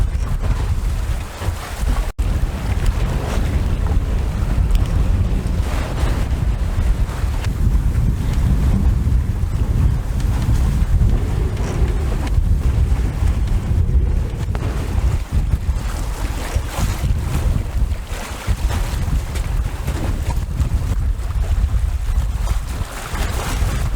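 A sailboat under way in strong wind, with a steady roar of wind buffeting the microphone over rushing water and waves along the hull, no talking.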